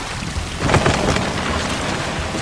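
Heavy rain pours steadily in a thunderstorm in the war shooter Medal of Honor Warfighter, with a rumbling thunder swell rising about a third of the way in and then rolling on under the dense downpour.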